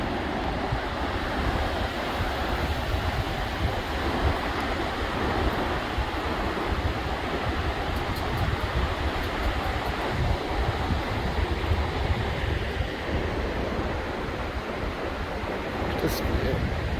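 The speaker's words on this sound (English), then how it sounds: "This gorgeous ravine with this raging river." A raging river rushes through a mountain ravine on the Continental Divide Trail near Breckenridge, a loud, steady broadband roar of whitewater that fills the whole span without a break.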